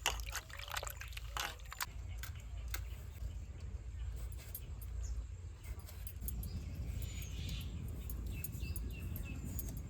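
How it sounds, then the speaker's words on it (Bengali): Running water trickles and splashes steadily while fish is rinsed by hand in a kitchen, faint and close, with occasional light knocks and a voice speaking over it. "গরম জল দিয়ে ধোয়া পরে ঠান্ডা জল দিয়ে ধুয়ে নেবো"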